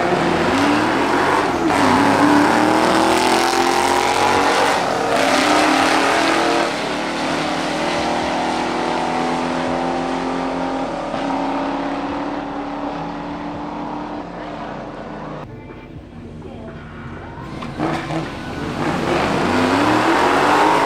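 A modified 2003 Ford Mustang GT V8 revs loudly and close for about twenty seconds, rising and falling in pitch with a brief dip before climbing again.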